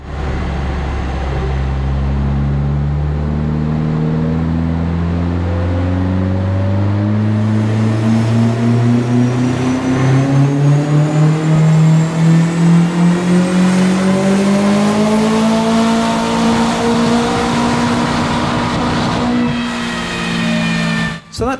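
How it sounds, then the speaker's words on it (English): A car engine on a full-power run with a misfire, loud and close, revving steadily upward for about twenty seconds with a rough, uneven pulsing in the note before cutting off abruptly. "No, there was still definitely a misfire."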